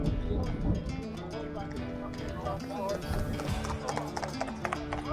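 Horses' hooves clip-clop in a quick, irregular patter while people talk nearby at the Appleby Horse Fair, with horse-drawn carts.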